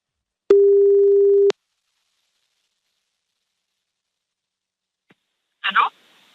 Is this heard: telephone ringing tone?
yes